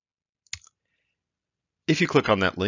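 A single sharp mouse click on a link, brief and close, followed after a pause by a person talking.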